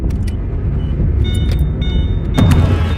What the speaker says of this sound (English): She runs to the car, makes it inside, and starts it up.